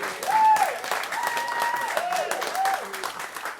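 An audience at a live stand-up comedy show breaks into cheering and applause, a steady wash of clapping and whoops that carries on for several seconds.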